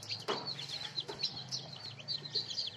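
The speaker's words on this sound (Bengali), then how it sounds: "দেশি মুরগির বাচ্চা, মাশাআল্লাহ, আল্লাহর সৃষ্টি কতই না সুন্দর" Native deshi chicken chicks peep in a dense, continuous stream of high, overlapping chirps, close and steady throughout with no other sound.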